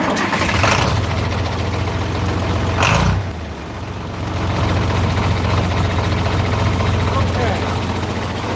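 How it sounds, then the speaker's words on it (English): A 40-20 farm tractor engine rumbles at a steady low idle, with a brief surge and dip partway through, loud and close throughout. "we're going to start up this tractor"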